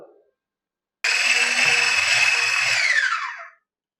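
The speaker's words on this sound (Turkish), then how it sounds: "tamamen hamurum içinde eriyene kadar çırpıyorum" An electric hand mixer whisks cake batter with vanilla and baking powder added. It gives a steady, close, whining motor buzz for about two and a half seconds and then winds down as it is switched off.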